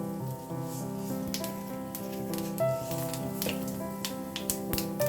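Nigella seeds tempering in hot oil for an arbi and hilsa head curry, a soft steady sizzle with scattered sharp crackles and pops, close and fairly quiet, with no talk.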